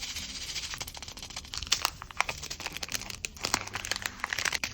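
Crinkly paper surprise packets being torn open and handled up close, a busy run of sharp crackles, rustles and small tearing bursts with no talking.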